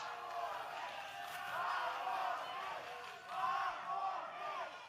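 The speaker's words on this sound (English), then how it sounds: "the crowd obviously not happy, chanting "Let them fight" here" A wrestling crowd at an OVW event chants in unison after a match is ruled a draw, a loud, steady roar of many voices that swells and dips in waves throughout.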